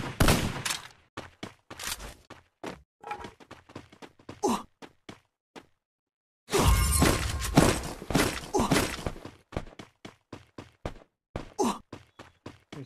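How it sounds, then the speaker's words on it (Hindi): Gunfire in the Free Fire battle royale video game, a string of short, sharp shots, then a dense burst after a brief silence and more scattered shots, heard alone without talk. "यार इसे फायर कर दिया"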